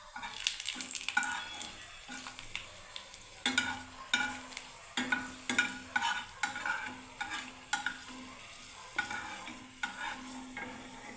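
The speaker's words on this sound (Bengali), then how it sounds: "এবারে বন্ধুরা দেখুন দুটো শুকনো লঙ্কাও ভেজে নিচ্ছি।" Two dried red chillies frying in a pan, a steady sizzle with repeated scraping stirs at a fairly even rhythm, close and moderately loud throughout.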